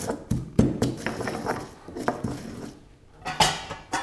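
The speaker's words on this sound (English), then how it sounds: "And the mortar pestle, let's just break it up." Garlic and salt crushed with a mortar and pestle produce irregular knocks and grinding scrapes, close and fairly sharp, with short pauses between strikes.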